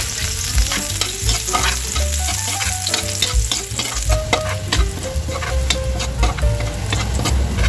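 Garlic fries in oil in a pan, a continuous loud sizzle and crackle with spatula stirring scraping through it, close up and without speech.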